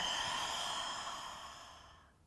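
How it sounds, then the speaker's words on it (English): A long, steady breath exhaled during a home yoga flow, a soft airy rush that holds steady and then fades out, close to the listener and heard on its own. "Exhale it out"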